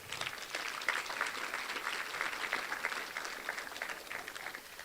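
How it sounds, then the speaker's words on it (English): An audience applauds at a high school senior promotion ceremony at Harvest Preparatory Academy, making a soft, continuous patter of many hands that sounds somewhat distant and holds steady for several seconds. "So please give them another round of applause."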